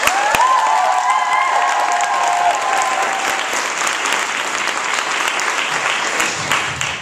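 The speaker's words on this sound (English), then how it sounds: "So Tanisha Carter, let's make some noise for Tanisha." Loud, sustained applause from a talk show studio audience with a few whoops and cheers early on, clapping continuing strongly for several seconds.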